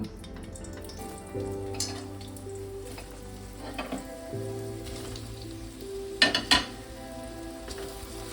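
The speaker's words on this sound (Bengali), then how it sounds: "তেলটা একটু গরম হলে আমি সোয়াবিনগুলো দিয়ে ভালো করে ভেজে" Soybean chunks fry in hot oil for a restaurant-style soyabean curry, a soft crackling sizzle with low hum underneath and a few sharper pops and spatters toward the end, close and moderately quiet.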